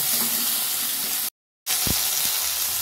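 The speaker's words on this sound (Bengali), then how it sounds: "সিমগুলো দিয়ে দিচ্ছি, সিমগুলো আমি ভেজে নেব।" Green beans fry in hot oil with a steady, loud sizzle. The sizzle cuts out for a moment, then returns with a couple of soft thuds, as if the pan is being stirred.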